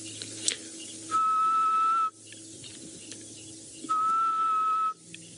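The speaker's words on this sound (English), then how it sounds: "But I can hear the grey-headed bushshrike." Grey-headed bushshrike on a morning safari drive, giving two long, steady, mournful whistled notes spaced a few seconds apart over faint background bush sounds, moderately near.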